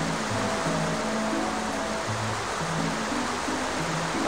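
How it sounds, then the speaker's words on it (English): A rushing water gush from a geyser spitting Mario out in the Paper Mario game, a steady broadband whoosh like a waterfall that fills the whole stretch at even loudness, with faint game music tones beneath. "Mario just gets spat out like a waterfall. Like a geyser"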